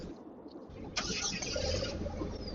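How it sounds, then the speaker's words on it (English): A 2018 Polaris Slingshot SLR engine cranks and catches, settling into a steady low idle rumble heard close by after a brief quiet moment. "I guess let's see it fired up."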